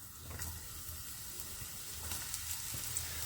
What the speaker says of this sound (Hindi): सबसे पहले मैं यहाँ पे डालूंगी अपने मशरूम्स।